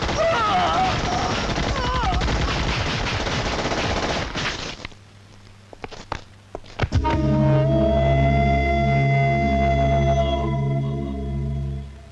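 Loud rapid bursts of gunfire in a scene from the Tamil action film Arasatchi, under shouting and dense action noise, then a brief lull with a few sharp cracks before a steady droning tone takes over.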